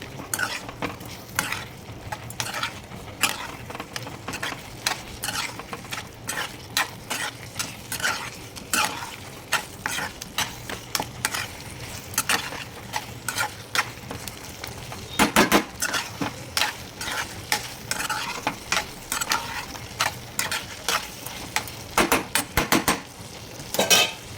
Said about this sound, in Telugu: ఈ మంచూరియా బాల్స్ వేసేసుకోవాలి. ఇప్పుడు వేసేసుకొని కిందికి మీద కలుపుకోవాలి.